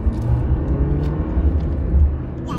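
Kia Sportage engine pulling in third gear, a loud steady low rumble with road noise from inside the car, rising and falling slightly through the acceleration.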